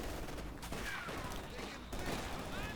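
Bursts of rifle and machine-gun fire crackle in a World War II real-time strategy game battle, with rapid overlapping shots and a dense, steady rumble of combat.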